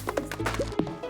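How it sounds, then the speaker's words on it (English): A video game character chops at something with a run of quick, woody thwacks, moderately loud and close, with a few tonal game sounds in between. "She's probably chopping something down."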